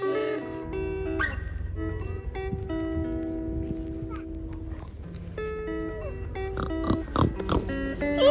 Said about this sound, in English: That's the noise they make.